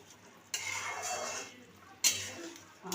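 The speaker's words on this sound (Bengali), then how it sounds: "আমি এই ঢাকা খুললাম" A metal lid lifted off a pot of fish curry with eggplant, two distinct clanks of the lid against the rim followed by a rush of steam and soft kitchen hiss, close and fairly quiet.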